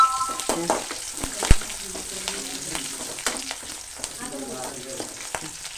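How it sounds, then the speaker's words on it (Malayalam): Sliced onions with dried red chilli and cut green chillies fry in a pan, giving a steady crackling sizzle with sharp pops and spatters and faint stirring clatter, close and fairly loud throughout. "ഉള്ളി നല്ലോണം മൂത്ത് വന്നിട്ടുണ്ട്."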